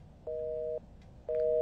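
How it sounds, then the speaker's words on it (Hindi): Phone call disconnected tone: two clear, steady beeps, each about half a second long, close and even, separated by a short pause, with no talk around them. "वो एक्चुअली फोन अभी कट हो गया, आई थिंक नेटवर्क चला गया था शायद"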